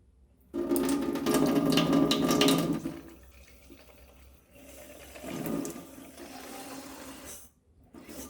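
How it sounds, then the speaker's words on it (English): Tap water gushes into a foam soap dispenser holding a little liquid soap for about two and a half seconds, then quieter sloshing follows as the bottle is given a slight shake, with short bursts of movement near the end. "Now add tap water and give it a slight shake."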